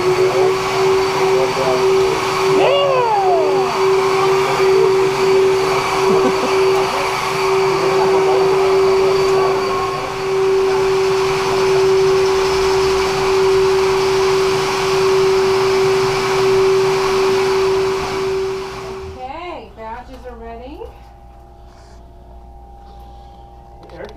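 A duct cleaning vacuum machine of about 750 CFM, with four motors, runs with a loud steady roar and a strong droning hum for most of the time, then winds down near the end as the pitch slides away.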